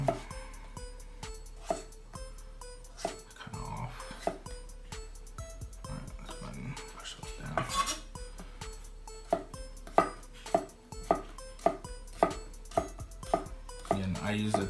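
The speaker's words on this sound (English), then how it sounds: "Let's say we wanted to do some dicing here." A chef's knife dices food on a cutting board in a kitchen, sounding as sharp, fairly regular chopping taps that grow more frequent toward the end.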